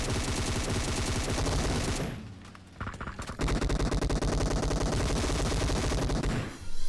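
Rapid automatic gunfire in the mobile battle royale game PUBG Mobile, loud and dense bursts of shots with a brief break of scattered single shots before the sustained firing resumes, no voices.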